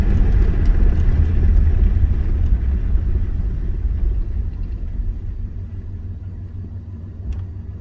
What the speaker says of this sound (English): Let's come to a stop and see how it idles down